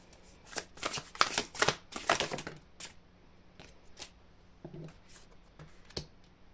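Tarot cards being shuffled during a reading: a dense run of crisp riffling and flicking bursts for about three seconds, then a few sparse, quieter card taps and slaps, close and with no talking.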